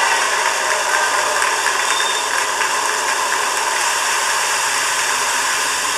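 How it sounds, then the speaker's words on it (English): A SpaceX rocket lifts off on the Transporter 4 rideshare mission, a loud, unbroken broadband roar that holds steady throughout, with no talk. "Mission and liftoff of Transporter 4."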